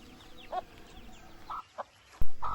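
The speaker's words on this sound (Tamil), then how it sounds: "இது பார்த்திங்கன்னா இந்த கோழி குஞ்செல்லாம் இன்குபேட்டரில் வச்ச முட்டை, அதுலேருந்து வந்த கோழி குஞ்சு தான்." Newly hatched chicken chicks from incubator eggs chirping in a few short, sparse peeps against a quiet background, with a single dull thump near the end.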